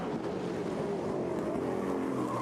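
TA2 race cars on bias-ply tires slide through a corner at the Belle Isle street circuit in Detroit, a steady roar of engines with a thin tire squeal running underneath, heard from moderate distance.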